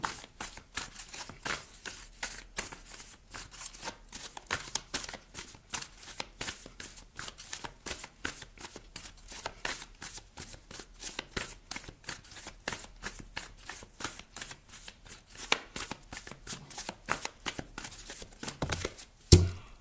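Oracle cards are shuffled by hand in long, steady runs of quick riffling flicks and soft slaps, close up and quiet, with no speech.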